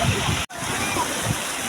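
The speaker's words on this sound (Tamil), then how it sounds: "பயங்கரமாக தண்ணி போயிட்டுருக்கு." Strong water flowing and rushing through a village lake outlet, a continuous loud splashing roar with a brief dropout near the start.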